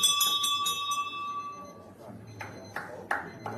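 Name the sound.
bell ringing at an indoor bowls tournament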